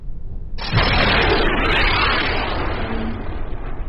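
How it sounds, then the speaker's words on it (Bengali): A military helicopter fires in the Indian Bike Driving 3D game, setting off a sudden loud explosion that erupts into a sustained roaring, crackling blast lasting several seconds. "আহ, গিয়ে ব্লাস্ট হয়ে যাবে।"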